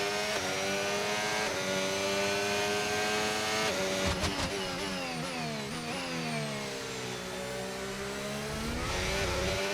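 A race car engine in the F1 25 video game screams at high revs, then drops through several quick downshift blips around the middle and climbs again, loud and continuous with no talking.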